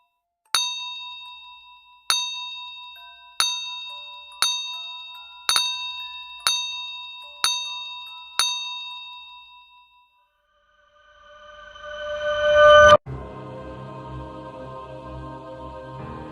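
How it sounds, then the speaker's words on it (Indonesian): A bright bell strikes eight times at a steady pace, each ring fading out, then a low swelling rumble builds and ends in a sudden crash. "terdengar suara lonceng dari atap rumah"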